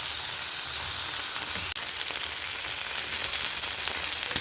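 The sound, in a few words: frying marinated pork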